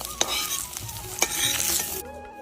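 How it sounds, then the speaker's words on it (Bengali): Small-fish paturi wrapped in bottle gourd leaves fries in a pan, a steady close sizzle broken by a few sharp stirring scrapes and clinks, no talking. "সব পাতুরি ভাজা হয়ে গেছে"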